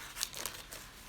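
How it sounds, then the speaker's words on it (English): Crafting tape peels off a pressed flower pendant in a few short crinkly rips, close and quiet, with no talk. "I think I have most of the tape off"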